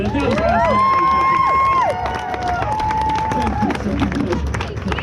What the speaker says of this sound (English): one more huge round of applause for Athena